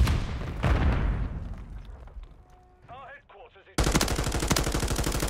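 Automatic weapon fire in the Call of Duty Modern Warfare III video game, with a heavy opening blast and scattered game effects, then a loud, rapid, continuous burst of fire near the end.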